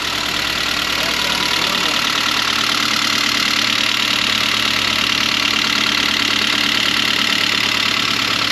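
A Saab 9-3 engine with low oil pressure idles steadily after an overhaul, a constant rumble with a faint rapid metallic pinging running through it, close and continuous, no talking.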